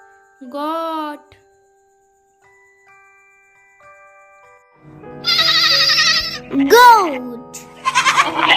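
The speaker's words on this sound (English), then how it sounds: "Goat." A goat bleats several times in short, wavering cries, loud and close, following a brief spoken word and a quiet musical tone at the start of a children's alphabet song.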